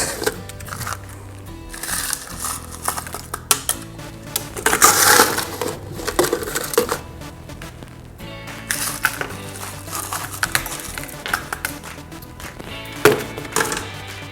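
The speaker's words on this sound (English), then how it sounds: "Now I'm going to add a little bit more ice." Ice is added to a mojito glass in a glass topped with soda, with clinks, rattles and crunchy cracking scattered over about fourteen seconds, loudest near the middle.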